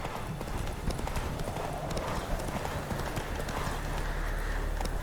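Roach the horse galloping in The Witcher 3, rapid rhythmic hoofbeats pounding continuously over a dense game soundscape.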